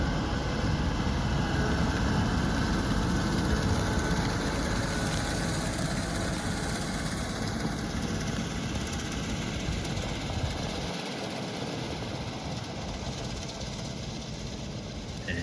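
Tractor engine running steadily while spreading polysulfate fertiliser over a field in calm, windless conditions; a loud, continuous low rumble with a faint high whine, holding level throughout with no speech.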